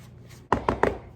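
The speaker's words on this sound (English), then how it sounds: "you want to use your wooden spoon and go on and mix the sour cream in" A wooden spoon mixing sour cream into biscuit dough for homemade 7UP biscuits, giving four soft, close thunks in a steady rhythm after a quiet moment.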